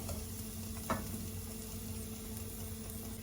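Garlic browns in a pan with a steady, quiet sizzle and faint crackle, along with a small utensil tap near the start and no talking.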